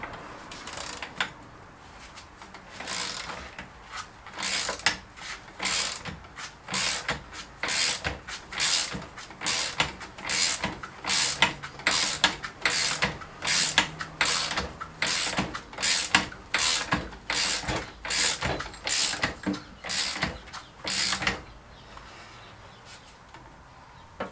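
A spring compressor on a Peugeot 206 shock absorber and spring being loosened with a ratchet: a long series of evenly spaced, loud clicking ratchet strokes, close by, with short pauses between groups and no talk.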